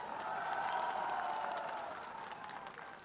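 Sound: applause at a political gathering

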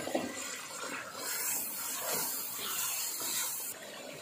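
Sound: sprinkling water onto chicken karahi spice paste in pan

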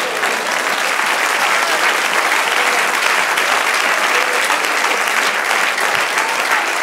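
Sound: congregation applause

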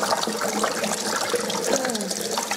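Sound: running cold tap water over a burned arm

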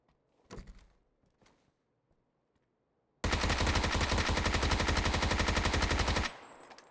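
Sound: Kar98K rifle gunshots in PUBG video game

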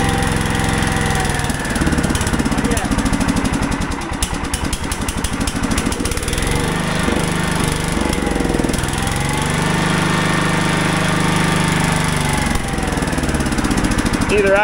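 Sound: Kohler K-Series engine running at idle

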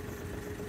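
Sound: Smart car engine idling

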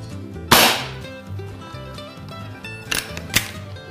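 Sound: Beeman R7 air rifle firing RWS Hobby pellets

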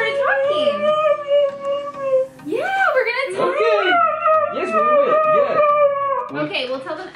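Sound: husky dog howling and vocalizing

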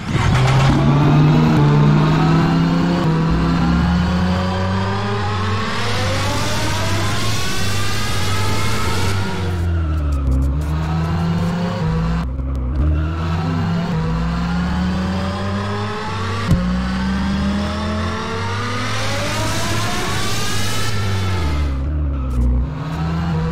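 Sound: Nissan GTR engine revving in a vehicle simulator video game

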